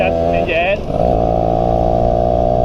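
A Yamaha SS Y110 motorcycle engine idles steadily up close, a low droning rumble, with a brief higher whine early on as a voice speaks briefly over it.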